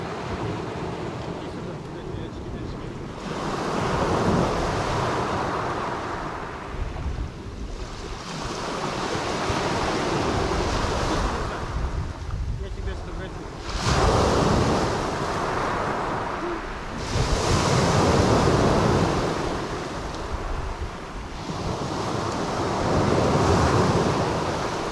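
Sea waves wash onto a winter beach at Beldibi, Turkey, rolling in and receding in repeated surges with steady wind noise on the microphone and no talk.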